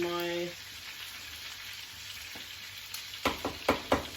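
Food frying in a pan and stirred with a wooden spoon: a soft, steady sizzle heard after a brief tone fades, then several knocks and scrapes of the spoon against the pan near the end.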